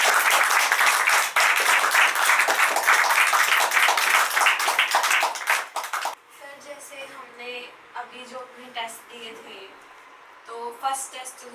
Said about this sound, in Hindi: उनके लिए तो तालियां।